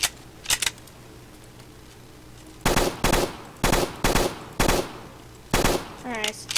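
Bursts of automatic gunfire in the Roblox game Black Ops 3 Tycoon, a few short volleys at first, then five loud rapid-fire bursts in quick succession.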